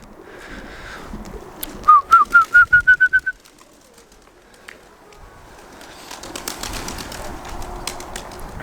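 A short burst of rapid, rhythmic pigeon calls repeats about eight times, followed by quiet and then faint rustling and fluttering of pigeons in the background.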